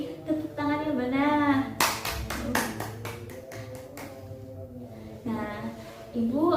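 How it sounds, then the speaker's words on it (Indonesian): Classroom students clapping hands for a group during a micro-teaching lesson, a short burst of distinct claps lasting about two seconds between stretches of a teacher's speech. "Tepuk tangannya mana?"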